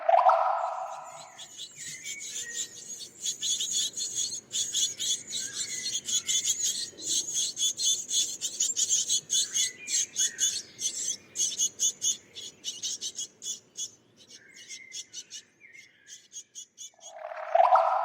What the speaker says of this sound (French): On vient d'entendre des oisillons de mésanges qui réclament à manger, qui sont dans le nid et qui réclament à manger aux parents.